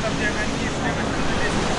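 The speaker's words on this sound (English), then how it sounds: "How about this waterfall, Bennett?" A large waterfall of water pouring down a mountainside, heard as a continuous broad rushing roar with some wind buffeting on the microphone, steady and close throughout.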